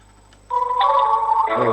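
A telephone rings on the line while calling a service number, a steady electronic ringing tone that starts abruptly and holds for about a second, fairly clear and close, without talk.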